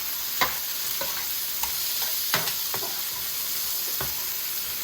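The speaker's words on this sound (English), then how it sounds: "I started to put some onion in. These are just 2 medium-sized onions." Two medium-sized onions fry in a pan with a steady soft sizzle, broken by a few sharp scrapes and stirring knocks from a utensil.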